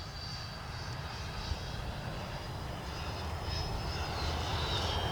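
An FMS Integral 80mm Sharky RC jet makes a low pass, its ducted-fan whine steady and building slightly louder as it approaches, with no talk.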